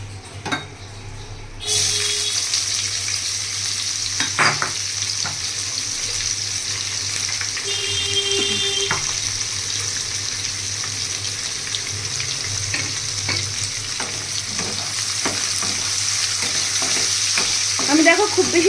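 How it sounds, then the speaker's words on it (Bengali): Chopped onion fries in hot oil for an egg biryani, a continuous close hiss with scattered clicks and scrapes of stirring, plus a brief pop or clink near the start, steady and uninterrupted with no talking. "একটু নাড়াচাড়া করে নিয়ে আমি দিয়ে দেবো পেঁয়াজ কুচিটা।"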